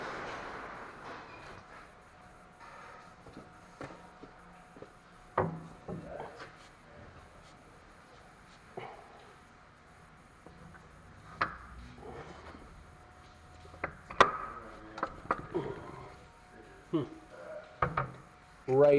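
A rear CV axle is slid and pushed into a 2010 Chevrolet Camaro in a quiet workshop: scattered faint scrapes and rubbing, then a few sharper metallic clunks from firm pushes near the end.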